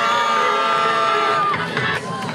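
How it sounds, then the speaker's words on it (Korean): A busking audience on a Hongdae street cheers and applauds as the performers are called up, a dense, steady wash of clapping and whoops throughout, with a bright sustained tone ringing above the crowd. "박수 주세요"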